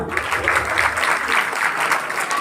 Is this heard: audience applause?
yes